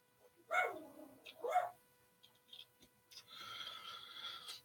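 A neighbours' dog barks a couple of times in the distance, two short faint woofs, followed by quieter scattered sounds and a soft high whine.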